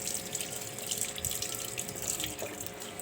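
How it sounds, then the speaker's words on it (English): Green papaya being washed under a running kitchen tap, a steady splashing stream of water hitting the fruit and sink, continuous and close for the whole stretch with no talking. "This is our green papaya which we're going to wash."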